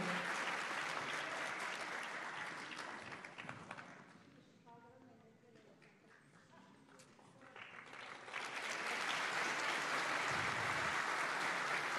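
A crowd at a Turkish political rally applauds the Şarkışla mayoral candidate, a loud, dense wash of clapping that eases for a few seconds and then surges back to full strength while talk runs faintly underneath.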